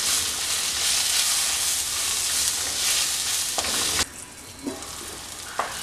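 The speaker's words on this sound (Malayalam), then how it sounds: "ഫ്രൈ ചെയ്ത് വെച്ചിരിക്കുന്ന ചെമ്മീൻ ചേർത്ത് കൊടുക്കാം. തക്കാളി മസാലയുമായിട്ട് നന്നായിട്ടൊന്ന് കുക്കായി വരട്ടെ" Prawns sizzle loudly in tomato masala in a pan for Kerala chemmeen roast, a steady frying hiss, then the hiss drops and a few stirring scrapes sound in the last seconds.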